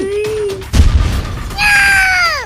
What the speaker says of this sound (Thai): มันยิงจนพื้นระเบิดเป็นรูเลยอะท่าน